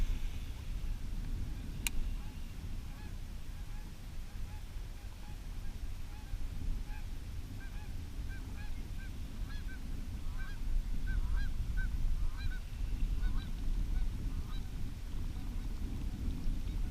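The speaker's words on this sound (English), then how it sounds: "I wonder what's got the geese all angry" Geese honking repeatedly in scattered bursts, faint and some distance off, over steady broadband wind or water noise outdoors while kayak fishing.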